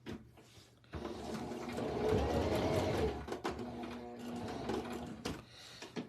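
A Singer Start 1304 sewing machine stitches in short bursts, pausing briefly between runs as the presser foot lifts and the fabric turns, with a steady mechanical whir up close.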